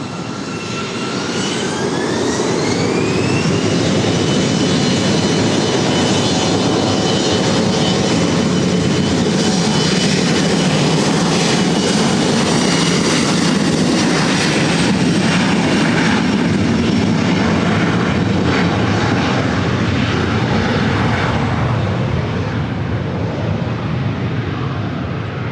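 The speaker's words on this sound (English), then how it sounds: "This is Delta Connection 3842 taking off to San Jose." A Delta Connection jet airliner takes off at LAX bound for San Jose, a loud, sustained engine roar with a rising whine that holds steady and then slowly fades as the aircraft climbs away.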